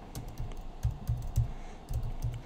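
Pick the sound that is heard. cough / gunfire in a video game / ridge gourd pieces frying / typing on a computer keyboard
typing on a computer keyboard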